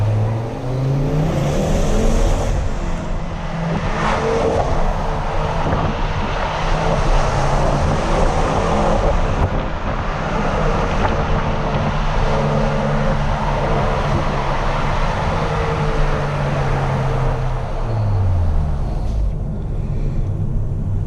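A 2010 Ford Focus RS engine pulls hard under full acceleration, a loud, sustained roar with rising and shifting harmonics through gear changes, close and continuous for the whole stretch.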